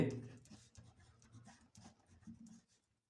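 Pen or pencil scratching across paper while a maths solution is written out, with soft irregular strokes over about three seconds, fairly quiet and close, with faint traces of a voice underneath.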